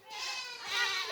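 A goat bleats loudly and close by in a long, wavering, quavering cry that swells toward the end, with no talk over it.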